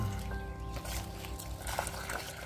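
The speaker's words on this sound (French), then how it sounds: "Ensuite, j'arrose un bon coup." Water pours and trickles onto soil around a newly planted grapevine in a garden, a steady soft splashing stream that keeps going without pause, close by and fairly quiet.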